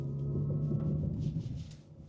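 Low, steady electric whir and hum of a 2025 Chevy Silverado RST EV truck driving with its simulated drive sound, a faint tonal drone and road rumble underneath, fairly quiet throughout.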